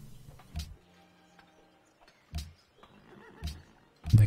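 Brief horse neighs and snorts from the strategy game Civilization V come in short separate bursts, about four spread across a few seconds, over a quiet background.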